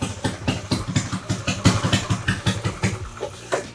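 An Italkart Laguna Cadet go-kart's LO206 engine runs just after its first start, with a close, steady throbbing putter of rapid regular beats that dips slightly near the end.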